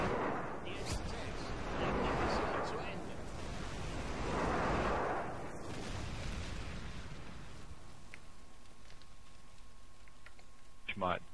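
Allied airstrike explosions in Modern Warfare 2 on Xbox 360, a series of deep, rolling booms that swell and fade one after another, then thin into a quieter background rumble.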